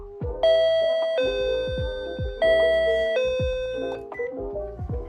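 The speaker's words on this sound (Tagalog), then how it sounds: "Kung lain mo doorbell" An apartment doorbell in Japan chimes its two-tone ding-dong tune twice, clear and close, with dull thuds underneath.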